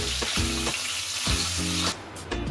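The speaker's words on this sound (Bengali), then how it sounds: "মাছগুলো হালকা ভাজবো" Koi fish fry lightly in hot oil in a kadai, a steady close crackling sizzle running throughout, broken by several soft repeated thuds that are probably the fish being moved about the pan.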